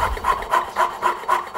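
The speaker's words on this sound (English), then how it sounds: "This is what I do when I'm sawing now." Hand saw rasping through wood along a dovetail baseline, six or seven rhythmic strokes evenly paced, close and fairly loud with no talk.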